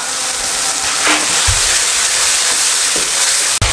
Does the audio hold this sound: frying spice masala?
yes